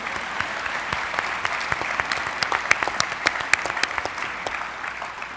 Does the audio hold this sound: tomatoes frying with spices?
no